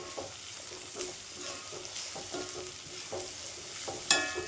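Turmeric powder being stirred into egg rice frying in a pan, with soft scraping strokes over a steady sizzle and a brief sharper clink near the end; no talking.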